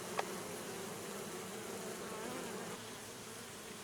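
Steady insect buzzing drones throughout, a dense hum of many honeybees defending a hive entrance against an Asian hornet, with one brief higher whine early on.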